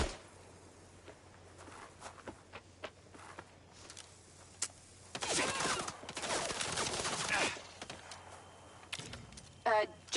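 Bursts of video game gunfire, scattered sharp shots early on then a dense rattling volley in the middle and a final burst at the end, with voices talking over it.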